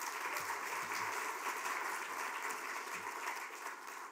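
An audience bursts into steady applause at a writers' series event honouring the program's sponsor, with even clapping from a moderately sized crowd heard at low volume and no talk.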